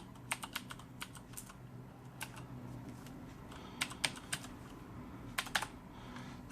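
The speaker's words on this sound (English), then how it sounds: "Then you just start clicking on keys to turn the lights on or off." Corsair K70 mechanical keyboard with Cherry MX Blue switches, clicky keystrokes pressed in irregular bursts and single taps, crisp and close against a quiet room hum.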